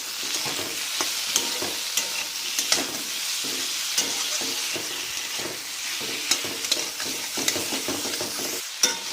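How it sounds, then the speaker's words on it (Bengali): Potatoes and chopped tomato stirred in hot oil in a pan while cooking a tangy tamarind dish, with a steady sizzle and repeated scraping stirs throughout, close and alone with no talk. "টমেটো দিয়ে ভালো করে আমি নাড়বো"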